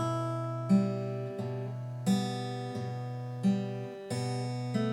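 An acoustic guitar plays a bar of a song, with sustained picked notes ringing over a steady low root and new plucks entering every two-thirds of a second or so, clear and close with no voice.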